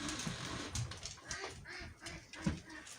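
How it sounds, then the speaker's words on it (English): Ducks on a homestead farm give a string of faint, scattered quacks at a distance, mixed with other low yard noises and no clear talk. "I know, little ducks. I hear you."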